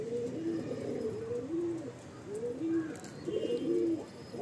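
Mundi Sada pigeons cooing in a loft, a male and female pair giving repeated low, throaty rolling coos in a steady rhythm, fairly close, with no talk over them.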